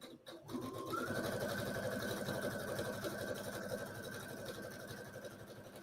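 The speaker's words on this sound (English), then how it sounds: "I'm just going to sew about a 1/4 inch seam allowance all the way down." Sewing machine stitching a quarter-inch seam on a fall wreath sash, running steadily with a fast, even mechanical chatter and a faint whine after a brief start, continuous and close with no talking.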